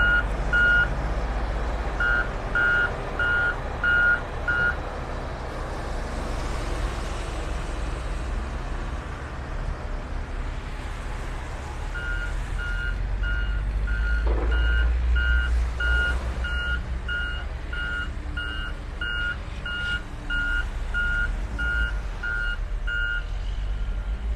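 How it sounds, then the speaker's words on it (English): A dump truck gives out steady reversing beeps as it backs up on a beach where sand is being delivered. The beeps come in regular runs over a constant low engine rumble and outdoor wash, and no one talks. "Comes another dump truck load over there."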